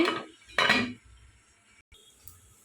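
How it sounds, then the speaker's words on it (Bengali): Two quick metallic clanks of a lid set onto a cooking pot, each ringing briefly before fading into a low hiss. "এখন আমি ডেকে দিচ্ছি"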